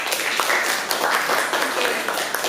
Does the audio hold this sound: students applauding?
yes